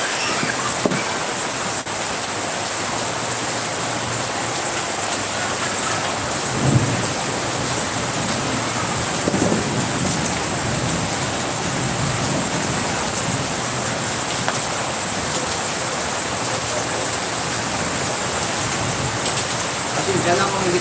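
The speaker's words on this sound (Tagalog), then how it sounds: "Natatalsikan ng ulan." Heavy rain pours down in a steady broadband hiss with low rumbles of thunder rolling underneath, and voices are faintly heard beneath the downpour.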